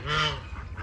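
A group of ducks kept outdoors during an arctic freeze calls in a brief, nasal honking burst close by, fading into softer calls with no talk.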